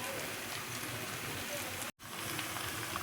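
Dates drop into a hot, sizzling pan of aloo dum with potatoes. There is steady, close crackling and hissing like rain, with a brief cut in the sound partway through.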